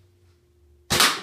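A Ramcat Pro broadhead arrow fired into ballistics gel, heard as a single sharp, loud impact thump after a near-silent pause with a low hum.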